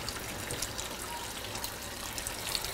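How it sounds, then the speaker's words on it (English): Hands being washed under a running tap while preparing raw dog food, a steady close rush of water with faint splashing throughout and no speech. "I actually do wash my hands too"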